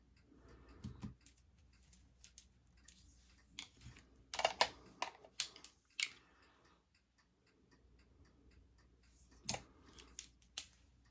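Small scissors trimming eyebrow hair make faint, crisp snips, a few scattered single cuts and a quick cluster, heard up close in a quiet room.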